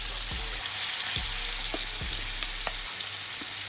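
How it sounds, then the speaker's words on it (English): Short ribs searing in hot oil in a pot, a constant crackling sizzle with a few low thumps and clacks as the pieces are placed and moved, no voices. "we're going to sear off our short ribs"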